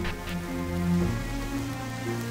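Steady rain patters throughout a short stretch of video game ambience, a constant hiss of drops beneath low sustained tones from the game's background music, with no talking.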